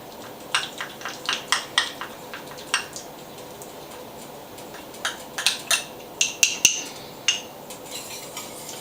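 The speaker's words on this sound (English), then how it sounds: "you have to keep on whisking or it sticks to the bottom of your pan" A whisk clinks rhythmically against a pan as sugar, spices, cornstarch and lime juice are stirred together, bright metallic ticks coming in quick irregular runs, close and moderately loud.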